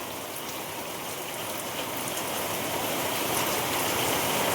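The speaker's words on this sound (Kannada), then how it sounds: "ಇವತ್ತು ಮಳೆ ಆಗತೈತಿ ಅದೇ ನೋಡಿ" Steady rain pours down in a village, a dense, continuous hiss of drops hitting surfaces that builds slightly louder over a few seconds, with no voices.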